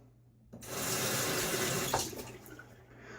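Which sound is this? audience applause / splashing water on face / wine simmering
splashing water on face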